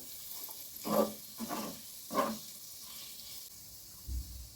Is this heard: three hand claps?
no